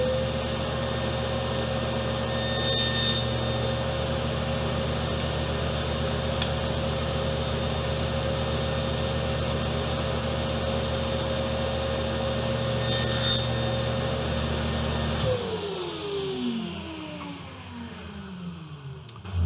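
Continuous sawing through a 2x6 wooden board, a steady tonal buzz with rhythmic rasping for about fifteen seconds before the blade winds down and slows to a stop, close and alone.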